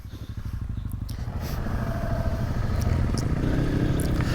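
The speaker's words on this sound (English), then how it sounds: "that exhaust takes 7 horsepower to make that noise" A dual-sport motorcycle with a loud aftermarket exhaust runs close by, its engine note rumbling steadily and building slightly in intensity throughout, with no talking over it.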